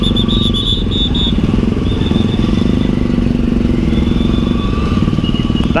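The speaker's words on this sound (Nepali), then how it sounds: "बाइकको साउन्ड मोडिफाइड छ" A motorcycle with a modified exhaust rumbles steadily and loudly nearby in city traffic around Boudha, Kathmandu, its engine note pulsing evenly with a faint high whine above it.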